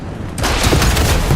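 A loud explosion bursts in a first-person shooter video game, where a turret blows up, arriving suddenly after a brief quiet lead-in and sustaining a dense, rumbling roar for about a second.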